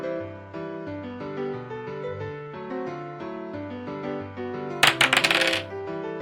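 A video game's dice sound effect, a short rattling clatter of several quick clicks that cuts through steady tonal game music near the end.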